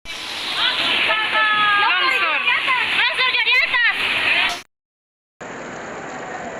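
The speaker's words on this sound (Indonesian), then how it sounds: "Ini sungai sebelah meluap nih." A river in Karueng village, Enrekang, overflowing during a flood and landslide, roars as a loud, continuous broadband rush. Someone talks over it for most of the stretch, and the water noise briefly cuts out before returning.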